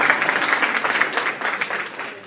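An audience claps right after a song ends, a dense, steady patter of many hands. It is moderately loud and lasts only a couple of seconds.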